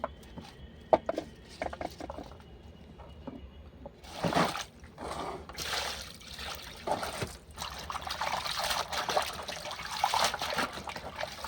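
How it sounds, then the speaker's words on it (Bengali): Radish greens being washed under a running tap give gurgling, splashing water in irregular bursts, quiet at first, then steadier and fuller as the greens are rubbed and rinsed close by. "শাকটা আমি কল নিয়ে চলে এসেছি ভালো করে পরিষ্কার করে ধুয়ে নেবো"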